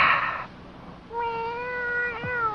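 A cat lets out a single drawn-out meow, clear and close, with a rising then falling tone. A short burst of other noise comes before it, and no one speaks.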